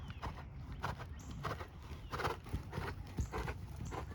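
A horse canters during a riding lesson, its hoofbeats falling in a steady, repeating three-beat rhythm at moderate distance for the whole stretch.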